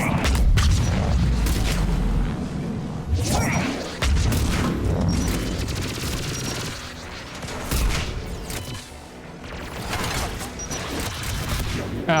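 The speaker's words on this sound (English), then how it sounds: "AA guns ahead of us" Anti-aircraft guns fire in a video game as a dense run of heavy booms and cracking bursts that go on without a break, loud and close, with faint voices under the barrage.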